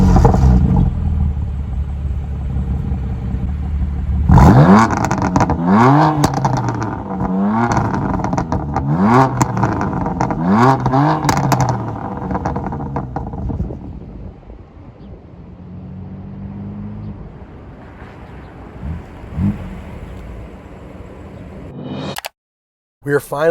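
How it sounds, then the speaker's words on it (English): A BMW M4 launches hard with wheel spin, its engine roaring loudly through rapid rising gear pulls, then easing off to a lower drone, with wind buffeting the microphone throughout. "Get a little wheel spin, a little drama and excitement, just like you want out of an M car"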